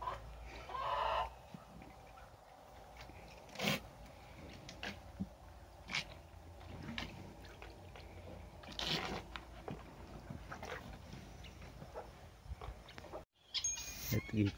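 Chickens clucking in a Bulgarian village yard, scattered clucks and occasional sharper calls at moderate distance, quiet overall, with a person talking intermittently over them.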